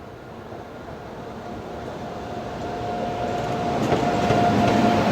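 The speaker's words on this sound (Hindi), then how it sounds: "ये है हिसार अमृतसर एक्सप्रेस" The Hisar Amritsar Express passes on an Indian railway line near Jalandhar, a steady rumbling roll that grows gradually louder, with a faint high tone and occasional rattling clicks toward the end.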